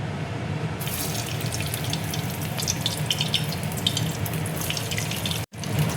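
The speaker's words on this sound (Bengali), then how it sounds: "এবার আমি কাবাবগুলো এক এক করে তেলের মধ্যে দিয়ে দেবো, ভেজে নেবো।" A steady, dense sizzle of soybean kebabs frying in hot oil over medium-low flame, with fine crackles throughout and a brief cutout near the end.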